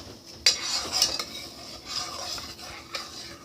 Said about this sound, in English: You're just going to stir them up.